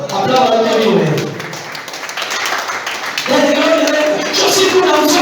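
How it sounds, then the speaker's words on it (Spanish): A church congregation claps loudly and continuously during a worship service while a preacher's voice and singing run over the applause. "Aplaudan que vive"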